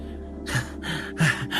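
In an audio drama, two people pant hard after running, with four or five loud, close gasping breaths in an uneven rhythm over a quiet hum.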